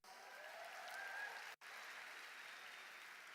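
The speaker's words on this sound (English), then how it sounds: "Give yourselves a round of applause." Audience applause fills a live event hall in Dubai, a steady, dense wash of clapping that cuts out for a split second midway and then resumes at the same even level.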